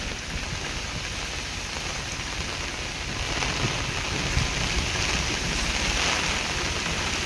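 Steady, dense rain pours down on a farm field during a long wet spell, a constant close hiss of drops with a faint low rumble underneath and no voices.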